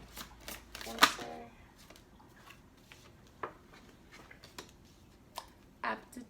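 Tarot cards being shuffled by hand, a quick riffle burst followed by sparse clicks and soft slides of the deck, close and fairly quiet.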